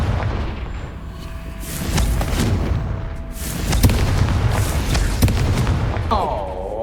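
Confringo fire spell blasts in the Hogwarts Legacy video game, heard as loud booming, crackling explosive bursts over a dense rumbling battle soundscape, close and continuous, ending with a brief rising magical whoosh.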